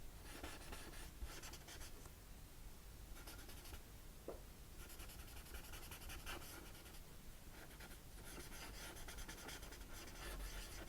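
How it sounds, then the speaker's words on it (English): Soft graphite pencil rubbing and blending across white paper while drawing a cherry, a steady close scratchy swishing in repeated strokes with brief pauses, no talking. "I'm just blending whatever is there through onto the white of the paper"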